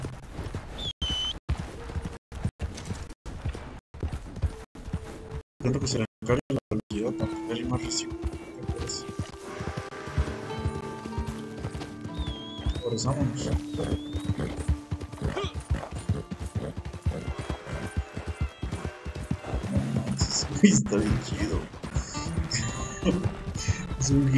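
Hoofbeats of a galloping horse in Red Dead Redemption 2, with occasional neighing and game noises, running over a long stretch beneath ongoing player chatter.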